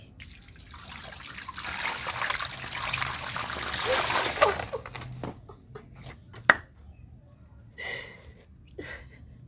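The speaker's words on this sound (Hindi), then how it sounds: "ये पानी है ना, मैं इसको आपको दिखाती हूँ किस तरह मैं फेंकूँगी" Water being thrown out while cleaning a workplace, a rushing splash and gush that builds and then trails off into scattered drips and small splatters, fairly quiet and close.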